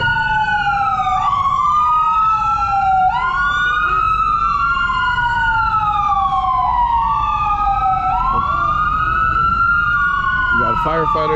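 Fire truck and ambulance sirens on a street in Vancouver's East Hastings area wail loudly and continuously in long rising and falling sweeps, with steady traffic and street noise underneath.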